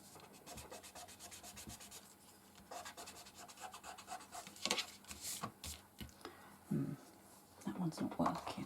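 An eraser rubs out marks on card, giving soft, repeated scratchy strokes close up, with some brief clicks and handling noises and quiet talk partway through.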